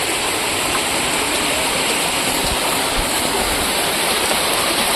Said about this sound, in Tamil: இதான் டிச்சு ரம்பியே தண்ணி போயிட்டு இருக்குங்க.